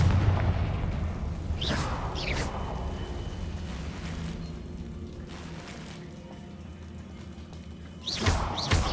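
Confringo fire spell blasts in the Hogwarts Legacy video game, a few sharp whooshing bursts near the start and again at the end over a low rumbling game background, no talk.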